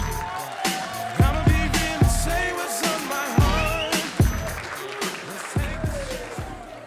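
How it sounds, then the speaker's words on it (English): A wedding reception audience claps and cheers, with a sustained wash of applause and a few whoops, near and moderately loud, while a voice speaks over it. "Give them a big round of applause, ladies and gentlemen, for putting together this awesome video"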